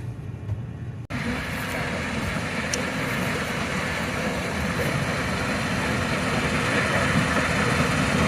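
A Class 6 combine, model 6130 from an early DEF series, idles with a steady broadband engine drone that holds constant and fairly close for the full stretch, after a brief quieter start, with no talking.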